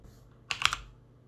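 A short burst of a few quick keystrokes on a computer keyboard as a web address is typed while setting up a TP-Link Wi-Fi range extender. The clicks are close and crisp over a quiet room hum.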